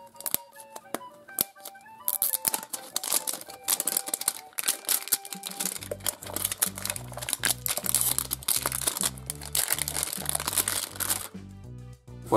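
Crinkly plastic packaging is pulled off a toy jar in close, irregular crackles and rustles, while music with a steady beat plays underneath.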